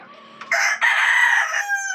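A gamefowl rooster at a breeding farm gives one loud, close crow, a short rising note followed by a long held call, with nothing else in the background.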